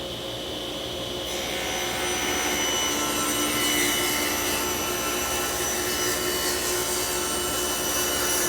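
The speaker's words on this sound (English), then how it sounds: "So let's take it over to the saw and set it up and see this thing in action." A saw fitted with a Harvey Compass RG 2 roller guide cuts wood, rising after about a second into a steady, loud whirring and rasping hum that holds to the end.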